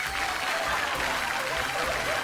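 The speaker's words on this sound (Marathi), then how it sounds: "जोरदार टाळ्या होऊन जाऊ देत." Loud, sustained clapping from a studio audience for a woman's performance on a Marathi TV show, a thick, even wash of applause with little talk beneath it.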